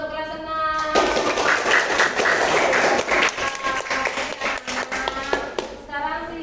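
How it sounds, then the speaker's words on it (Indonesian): A class of sixth graders in a classroom bursts into applause, a dense patter of clapping hands lasting several seconds, with voices around it before and after. "tepuk tangan untuk kelas 6"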